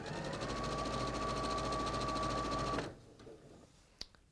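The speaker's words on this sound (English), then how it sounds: "So all I'm doing is sewing these right sides together" Sewing machine stitching fabric squares right sides together with a quarter-inch seam for a William Morris Scottish cross quilt, a steady loud motor hum running for about three seconds before stopping abruptly, followed by quiet handling noises.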